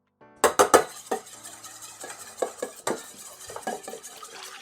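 Egg and salt being stirred together in a bowl, a brisk run of close, uneven scraping and clinking strokes, loudest at the start and then settling into lighter, steady stirring.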